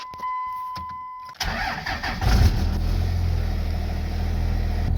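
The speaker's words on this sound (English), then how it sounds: "So I'm gonna start the pickup here." 2nd-generation Dodge Ram pickup starting: a chime, then the starter cranks briefly and the engine catches, settling into a steady, close idle rumble.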